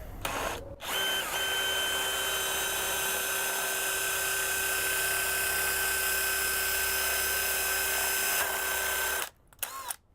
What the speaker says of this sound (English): drill the 5/8, or no, the 7/8 one straight through this aluminum 7000 shell